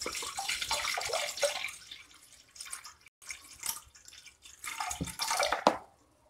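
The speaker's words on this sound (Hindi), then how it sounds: "मैं डाल रही हूँ करीब 1 लीटर पानी" Water poured into a kadai on a kitchen stove, about a litre, heard as a continuous splashing, gurgling stream with short breaks and a final burst of splashes, close and fairly loud, with no talking.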